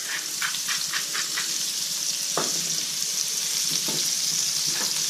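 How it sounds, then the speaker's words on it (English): Shallots with a pinch of salt sizzle in a hot pan over medium heat at the start of a steak pan sauce, a steady close frying hiss broken by a few quick stirring clicks. "we're going to take our shallots and we're going to throw them right in"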